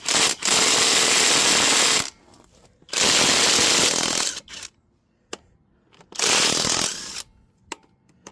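Power tool spinning 19 mm lug nuts off the wheels of a 2004 Ford Explorer: three loud, sustained high-pitched whirring bursts of about one and a half seconds each, separated by short pauses with faint clinks and handling noises.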